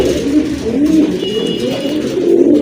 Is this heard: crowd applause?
no